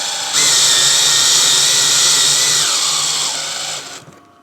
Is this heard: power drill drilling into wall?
yes